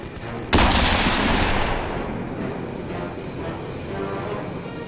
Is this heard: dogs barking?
no